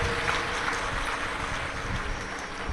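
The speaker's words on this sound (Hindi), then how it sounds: "एक बार जोरदार ताली बजाकर" Dense, steady applause from a large audience at a Shiv Mahapuran katha in Madhya Pradesh, a broad even roar of many hands sustained throughout without pause.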